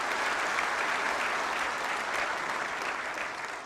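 Sustained audience applause at a birthday tribute during a PM Modi event launching a national logistics policy, a dense steady clapping wash that fades slightly toward the end, with no voices on top.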